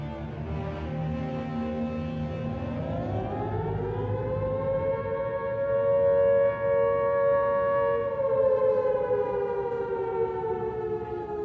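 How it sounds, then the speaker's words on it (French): An air raid siren wails steadily over Paris during the Second World War, its pitch rising early and then holding a long, loud, sustained howl with no voices. "le hurlement des sirènes précipite les Parisiens vers les caves et les abris"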